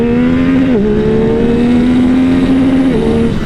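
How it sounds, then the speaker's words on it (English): Yamaha R9 motorcycle engine held hard against its aggressive rev limiter around 10,500 rpm, a loud, close, steady high-pitched drone that dips briefly twice as the limiter cuts in, with no talking. "Got a really aggressive rev limiter, as you can see there."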